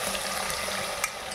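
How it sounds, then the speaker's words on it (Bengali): Sliced onions frying in hot oil in a pan for a home chicken recipe, a soft steady crackle and hiss with faint pops, close and continuous. "পেঁয়াজটা ভেজে বেরেস্তা তৈরি করে নেব।"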